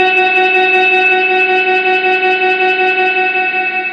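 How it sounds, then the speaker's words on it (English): Steady ringing tone through an Electro Harmonix Cathedral pedal, echoes repeating evenly with a faint pulsing texture, sustained at a constant loud level throughout. "you can hear those discrete echoes ringing all the other way"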